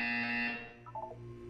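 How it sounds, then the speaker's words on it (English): A buzzer sounds in the video game Portal 2, a short loud electronic drone with a harsh tonal edge that cuts off after about half a second, followed by faint chime-like tones. "When you hear the buzzer, look up at the ceiling"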